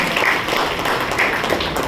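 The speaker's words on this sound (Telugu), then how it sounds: "వీళ్ళు చప్పట్లు పడుతున్నారు" An audience at a gathering claps steadily and fairly close, a dense even patter of applause that carries through without pause and with no clear talk over it.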